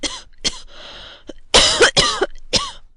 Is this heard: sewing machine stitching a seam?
no